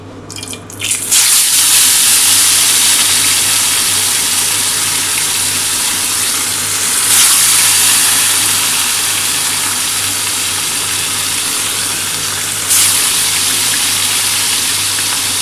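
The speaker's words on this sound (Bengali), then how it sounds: "এবার আমি মাছগুলো কিন্তু ভেজে নিচ্ছি।" Pieces of bhola fish fry in hot oil with a loud, steady hissing sizzle that swells sharply near the start and holds at an even level, with brief surges later and no voices.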